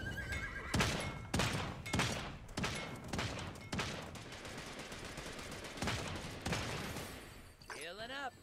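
A horse whinnies near the end of Royale video game gameplay, preceded by a series of sharp, evenly spaced bangs like gunshots over a busy background.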